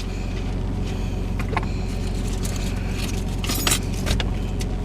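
Keys jangling in and around a parked car, light metallic clinks coming in small bursts over a low steady rumble, close and moderately quiet.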